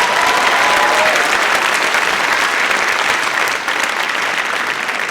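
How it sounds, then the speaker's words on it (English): Dense, sustained applause from a school concert audience for 5th and 6th grade orchestra students at an upper elementary winter orchestra concert, loud and steady throughout with no talking. "Let's give both 5th and 6th graders another round of applause."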